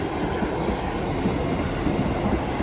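An East Midlands Railway passenger train, service from Norwich to Liverpool Lime Street, passes close by in Greater Manchester, giving a steady loud rumble of wheels and carriages with faint clatter.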